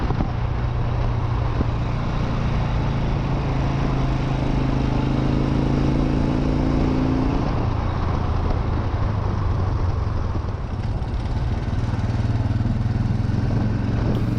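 A single-cylinder BMW R27 motorcycle engine drones steadily on a downhill run, a loud, continuous buzzing thrum with shifting pitch and wind noise, close and alone.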